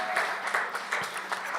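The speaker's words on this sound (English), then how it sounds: "Come on, let's clap our hands for them." Crowd at a National Action Network Saturday rally clapping hands, a steady dense patter of applause filling the whole moment at moderate loudness.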